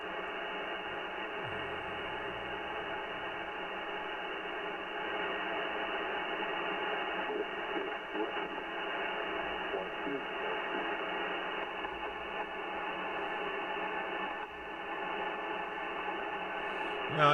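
A faint amateur radio station sits buried in a steady wash of static and hum on a mobile radio setup, barely rising above the noise throughout, with no clear speech standing out.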